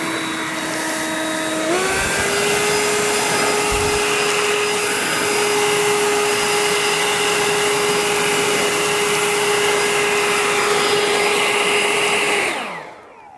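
A Ryobi 40V Whisper Series battery leaf blower, 730 CFM, blowing stones: a loud, steady whine that steps up in pitch after a moment, holds a strong airy roar with faint rattles, then spins down.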